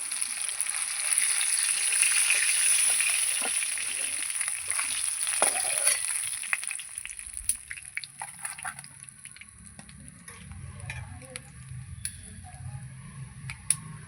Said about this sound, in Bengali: এই আর দু পিস মাছ আছে দিয়ে দেবো তাহলে আমার সব মাছ ভাজা হয়ে যাবে